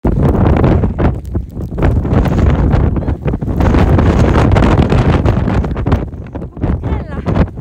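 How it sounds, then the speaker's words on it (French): Strong gusting wind roars and buffets the microphone throughout on a mountain summit in Scotland, with voices talking underneath the rumble. "Le vent est incroyable"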